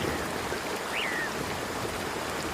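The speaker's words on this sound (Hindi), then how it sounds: "पता नहीं ये बारिश कब रुकेगी।" Steady heavy rain hisses down continuously, with a single brief bird chirp rising above it.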